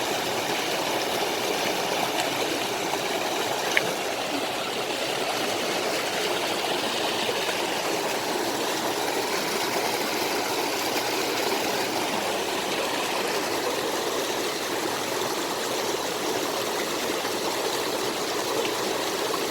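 Water flows steadily in a stream, a constant broadband rush and babble without pause, no voices, even in loudness throughout.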